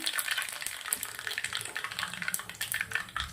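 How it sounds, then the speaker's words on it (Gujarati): Mustard seeds, cumin and curry leaves sizzle and crackle in hot groundnut oil for a South Indian chutney tempering, a steady close spitting hiss with dense popping throughout, no voices. "તેલ ગરમ થઈ ગયું છે. થોડું રાઈ અને જીરું નાખું છું. થોડા મીઠા લીમડાના પાન."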